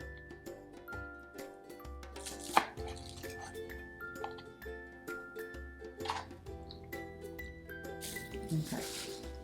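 A knife chops green onion on a cutting board for a seafood pajeon in a series of crisp, uneven taps and thuds, close by, with a voice speaking and tonal background sound throughout.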